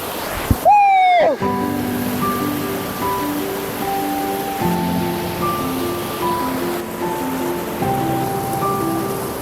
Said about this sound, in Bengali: ওই সামনে দেখছো ঝর্ণাটা সুন্দরভাবে বয়ে আসছে